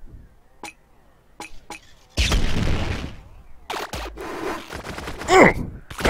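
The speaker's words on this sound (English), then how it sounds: "Eat a grenade!" Grenade blast in the game Relic Hunters Zero, a sudden loud boom that rumbles for over a second, followed by more bursts of gunfire and chaotic in-game effects, with a few sharp clicks before it.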